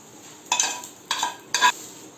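Onion and dry coconut roasting in a pan for a rajma curry, heard as three short bursts of stirring and sizzling about half a second apart, close and crisp against a quiet background.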